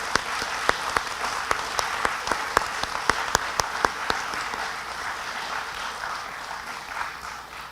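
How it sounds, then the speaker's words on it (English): An audience at a Veterans Day assembly for a career center's National Technical Honor Society applauds its current members, steady clapping with a few sharp, close individual claps standing out during the first four seconds, then fading gradually. "Let's please give a round of applause for our current members"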